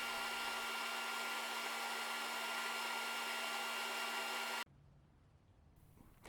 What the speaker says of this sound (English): I am going to send it through the drum sander to clean up the blade marks from the bandsaw.